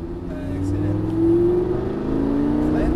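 A Lamborghini Gallardo's engine gently picks up revs, its steady, close drone rising slowly in pitch as the throttle is eased open.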